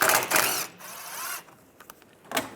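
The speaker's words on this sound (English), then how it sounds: "Use a T25 socket. Take that screw off." Socket wrench with a T25 socket backing out a shield screw under a 1998-2010 Volkswagen Beetle, with fast ratcheting clicks in short bursts, close by, then quieter fiddling.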